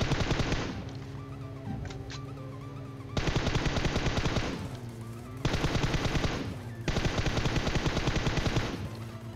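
Loud automatic weapon fire in PUBG Mobile during a vehicle chase, several long rapid bursts separated by short pauses with engine and game sounds between them, the shots dominant and close.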